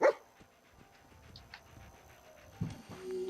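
Companion dog in the video game Fallout 4 makes soft, quiet panting breaths and small snuffles over a low game background, with a slightly louder rustle near the end.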